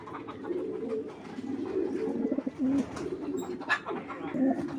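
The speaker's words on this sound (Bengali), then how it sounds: "যেহেতু নর কবুতর সবগুলো মারামারি করতেছে" Several male racer pigeons coo in deep rolling bursts while they scuffle with one another on a pigeon farm, close and fairly loud, with occasional flutters and short sharp calls.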